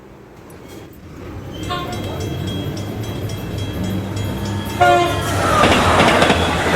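A train at Durgapur railway station sounds its horn in sustained tonal blasts, with rumbling wheels and clatter nearby, loud and close, and faint crowd noise around.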